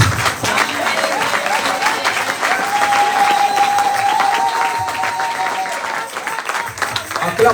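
A church congregation applauds and acclaims the Lord in sustained, dense clapping with cheering voices and a held vocal note, steady and loud throughout.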